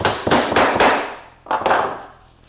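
Hammer driving the pin of a reverse pop rivet into metal: a quick run of four loud, ringing metallic strikes, a pause, then two more, each ring decaying, close by with no talk.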